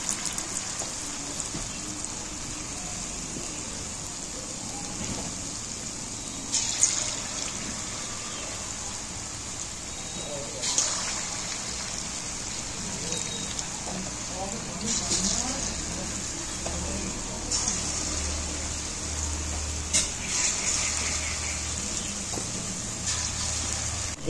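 Ripe jackfruit batter dropped into hot oil gives a steady, close frying sizzle that runs throughout, with a few brief clinks and bumps along the way.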